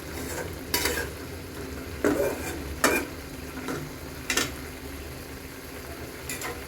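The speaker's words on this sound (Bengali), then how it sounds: "নেড়ে চেড়ে এটা ঢাকায় দিব, একটু কষায় নিচ্ছি" Spicy curry being stirred and sautéed in a pan, with a steady low sizzle broken by several sharp scraping strokes of the spoon at irregular intervals, close and moderately loud, no voices.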